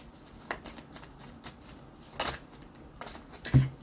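Tarot cards are shuffled close by during a reading, a few soft riffling bursts with brief gaps and a small tap at the end, quiet and without talk.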